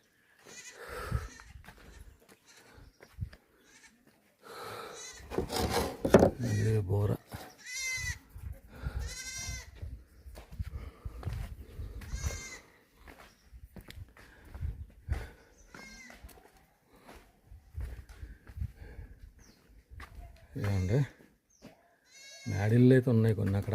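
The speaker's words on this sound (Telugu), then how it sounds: "మేకపిల్లలు ఉన్నాయి" Young goat kids bleat repeatedly in a small tribal hill village, sharp wavering cries scattered between stretches of nearby talking.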